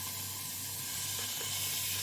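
Food frying in a pan on a gas stove turned low, a steady close sizzle and hiss running unbroken throughout, with a faint low hum beneath and no talking.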